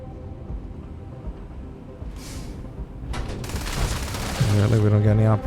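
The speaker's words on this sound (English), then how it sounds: "It's just straight to gunfire with you?" Gunfire breaks out in the Starfield video game, several sharp shots and bursts building into a loud, dense exchange of fire over a background of game sound.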